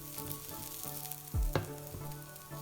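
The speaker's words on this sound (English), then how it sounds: "So yeah, keep stirring your green beans." Garlic and green beans sizzle steadily in a stir-fry pan for a Thai basil pork dish, with a brief louder scrape or clatter of stirring midway, close and moderately loud, no talking.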